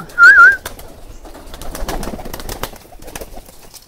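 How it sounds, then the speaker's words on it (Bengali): Native pigeons give a loud, close coo near the start, followed by quieter, fainter bird calls and rustling, with no talking. "দেখেন কিছু কবুতর নামছে"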